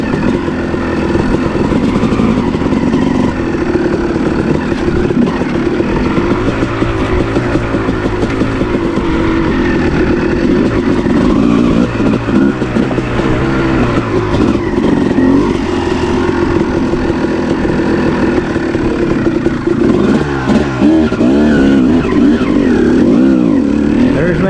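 A 2006 Kawasaki KX250 two-stroke dirt bike with a VHM head and 11oz flywheel weight rides a mountainside trail. Its engine drones loud and close throughout, rising and falling with throttle changes.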